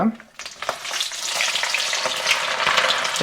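Chopped shallots fry in hot oil for prawn sambal, giving a loud, steady sizzle close by, with stirring scrapes mixed in.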